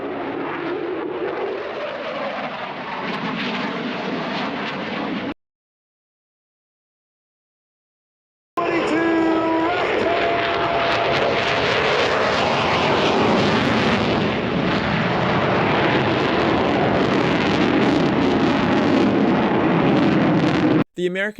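Roaring RAAF fast jet passes during a flying display at Avalon Airshow, a loud sustained engine rumble broken by a brief silent gap, then returning even louder and steady until an abrupt end.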